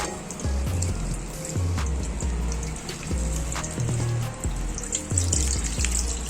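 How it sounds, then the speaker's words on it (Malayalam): Packet milk is poured into a vessel for payasam, a continuous splashing, gurgling liquid stream with shifting pitch as the vessel fills, close and fairly loud, with no talking. "ഇനി നമുക്ക് പാൽ ഒഴിക്കാം."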